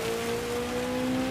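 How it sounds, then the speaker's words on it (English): Heavy rain in the racing video game Gran Turismo 7 gives a dense, steady hiss of spray and downpour, loud and continuous, with a steady engine hum underneath. "This little bit of heavy rain though."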